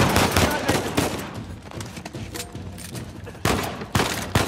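Shotgun gunfire from the video game Uncharted 4, loud heavy blasts at the start and again near the end with quieter game noise between.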